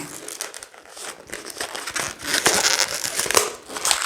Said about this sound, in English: We can trim off the end here and then just tie.